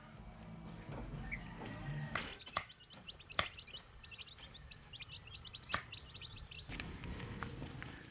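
A flock of chicks peep in quick high chirps as they rush toward a woman's call outdoors, faint and scattered, with a few sharp knocks and clatters nearby.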